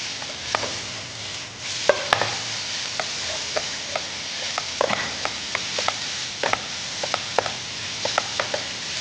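Paneer is stirred and sautéed in a masala in a hot pan: a spatula scrapes and taps in repeated strokes over a continuous low sizzle.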